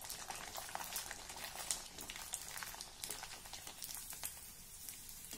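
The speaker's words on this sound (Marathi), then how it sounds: "आता आपण हे पापड तळून बघूया।" Sabudana papad frying in hot oil, a dense, steady bubbling crackle with fine spitting pops throughout, close and fairly loud with no voices.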